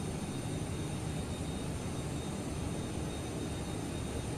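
Airbus A380 taxiing in the video game Microsoft Flight Simulator: a steady, even engine roar and rumble that holds at a constant level throughout.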